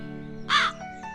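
A cartoon crow gives a single loud, nasal caw, alone over a soft, steady background hum.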